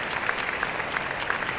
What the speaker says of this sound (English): Manu got an applaud from the audience